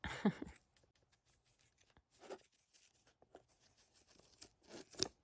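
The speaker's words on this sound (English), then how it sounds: "I'm just going to take my scissors, try not to hurt my book." A few quiet, crisp snips of scissors cutting through yarn, separated by near silence, up close.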